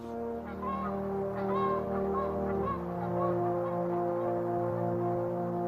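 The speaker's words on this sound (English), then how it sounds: "Swans and other migratory birds fly away to the south." Swans and other migratory birds honking and calling, a steady overlapping chorus of tonal cries carried over a continuous low hum.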